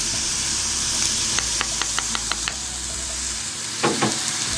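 Apple pie filling with sugar, cinnamon and salt being stirred in a pan, a steady sizzling hiss with a run of soft, rhythmic scraping strokes and a couple of louder clatters near the end.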